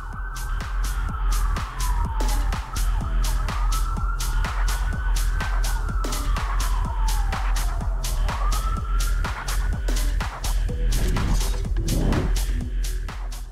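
An ambulance siren wailing in slow rising and falling sweeps through a traffic jam, loud and close over steady road noise, with a rapid pulsing pattern partway through.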